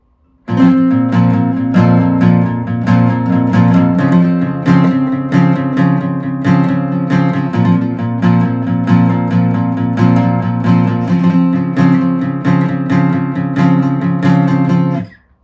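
Guitar strumming chords in a quick, steady stream of down strums, loud and continuous with no voice.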